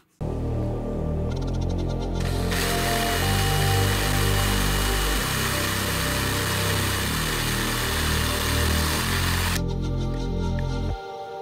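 A power drill enlarging holes in a BST 34 carburetor rail whines loudly and close with a steady motor tone that shifts pitch as it bites into the metal, running for about seven seconds before stopping.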